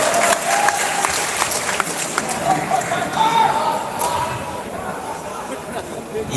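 Audience at a religious lecture in Banyuwangi bursts into sustained applause for the moderator, dense clapping mixed with crowd chatter throughout.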